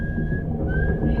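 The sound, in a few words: someone whistling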